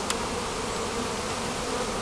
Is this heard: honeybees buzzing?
yes